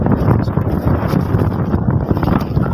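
Strong wind on a hilltop at Tanay, Rizal, roaring and buffeting the microphone in a loud continuous low rush with gusty fluctuations throughout.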